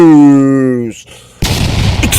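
A loud explosion from a video game trailer bursts in after a sustained tonal voice-like sound fades and a brief near-silence, then leaves a rough roaring rumble to the end.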